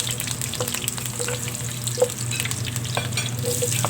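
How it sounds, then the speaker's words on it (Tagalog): Crushed garlic sautéing in hot oil, a close, even, continuous sizzle with soft stirring scrapes and a few light ticks of the utensil against the pan. "Sa mainit na mantika, igisa na natin ang ating ahos, crushed garlic"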